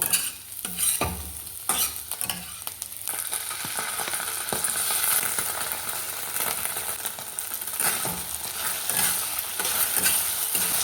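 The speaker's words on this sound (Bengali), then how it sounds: "দেখো আমার পেঁয়াজ ক্যাপসিকামগুলো ভাজা হয়ে গেছে তো এখন সস দিয়ে দেব" Onions and capsicum fry in a pan, with a spatula repeatedly scraping and knocking against the metal over a constant soft sizzle, close and without voices.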